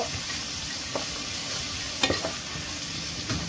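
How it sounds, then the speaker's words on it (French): Onions frying in a pan for chicken biryani: a steady sizzle runs throughout, broken by a few sharp scrapes and clinks of a utensil stirring. "je fais revenir mes oignons très bien"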